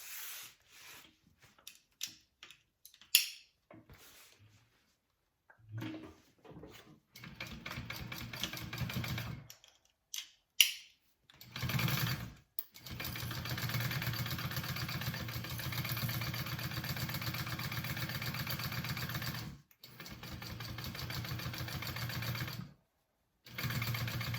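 A sewing machine stitches a half inch seam on a fabric bag in several bursts, short stops and starts early on, then longer steady runs of rapid mechanical whirring with brief pauses between them.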